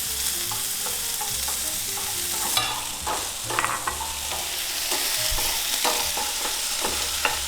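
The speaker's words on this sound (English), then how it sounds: "just add everything, throw in here and then stir fry them" Zucchini and mushrooms stir-fried together for a vegan tofu jjaguri give a steady close sizzle, with repeated rhythmic scrapes and clacks of stirring throughout and no talking.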